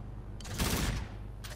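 Weapon fire in the video game Call of Duty: Infinite Warfare, a short loud burst of rapid shots lasting about half a second, followed by a fainter second burst.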